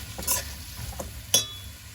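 Meatballs with carrot and potato stirred in a pot, a few quick scraping strokes of a utensil under a faint sizzle, ending in a sharp metallic clink.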